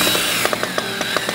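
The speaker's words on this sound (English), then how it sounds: "So I'm going to come in here with a couple of screws" Screws being driven into a wooden window sash on a historic cigar factory window in Ybor City, Florida: a steady whirring tool with a string of short rhythmic pulses, close and fairly loud, with no talking.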